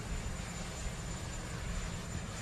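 Helicopter rotor noise at an Air Force One send-off forms a steady, loud, broadband drone with low thrumming, continuous and unbroken.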